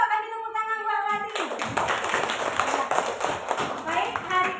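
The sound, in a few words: children clapping hands in a classroom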